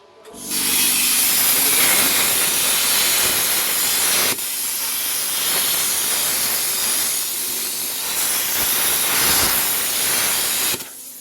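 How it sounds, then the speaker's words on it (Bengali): A welding machine switched to cutting mode slices through thick steel angle, giving a loud, steady hissing roar that starts abruptly and runs unbroken for about ten seconds before cutting off. "এখন আমরা সুইচ যদি দিই এখন মাল কাটবে"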